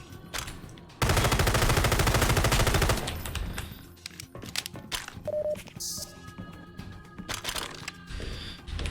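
A sustained burst of rapid automatic gunfire rattles loudly for about two seconds in the shooter game Hunt Down the Freeman, followed by scattered single shots, clicks and game sounds that continue at lower level.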